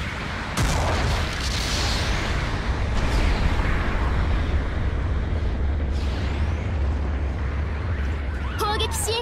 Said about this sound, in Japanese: 砲撃支援が実施されます。